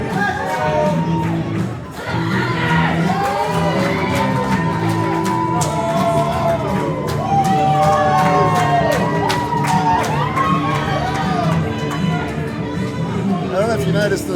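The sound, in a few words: wrestling crowd cheering for champion Frankie Quinn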